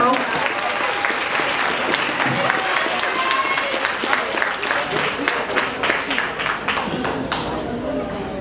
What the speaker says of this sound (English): let's give a round of applause for our I Earner